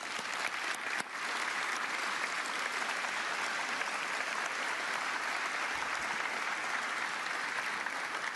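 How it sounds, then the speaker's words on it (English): Sustained, dense applause from a large audience at a Congressional Space Medal of Honor ceremony for astronauts, a broad even roar of many hands lasting over eight seconds without talk. "a warm round of applause"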